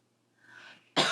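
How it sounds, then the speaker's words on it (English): A person coughs once, sharp and close, after a brief breathy lead-in during a core and pelvic floor exercise. "do a couple more coughing rounds"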